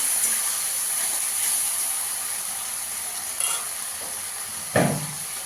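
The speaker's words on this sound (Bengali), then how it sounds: "হাফ চামচ রসুন বাটা দিয়ে দেবো। দিয়ে ভালো করে ভেজে নেবো।" Garlic paste frying in a pan for aloo dum gives a steady, loud hiss and sizzle throughout, broken by a couple of brief spatula scrapes near the end, heard up close with no speech.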